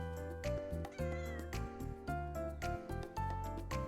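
A cat meows repeatedly in a video game, a run of clear, close mews in an uneven rhythm, with musical tones underneath and no talking.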